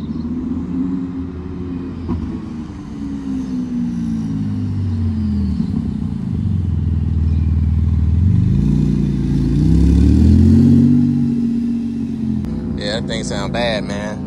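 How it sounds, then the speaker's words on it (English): Porsche GT2 and other sports cars rolling in at a Cars and Coffee meet, engines rumbling and revving up and down over about fourteen seconds, swelling louder midway as they pass near, with some talk in the background. "We got Greg's GT2 coming in down there."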